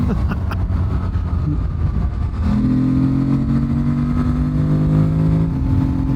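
A heavy 265-kilogram adventure motorcycle engine drones steadily while riding on a road, with wind rush and a rising mid-pitched hum as the bike picks up speed.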